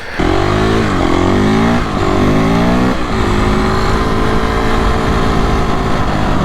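A Honda CRF250X dirt bike engine revs loud and close, rising and falling in pitch a few times before holding a steady, raspy drone.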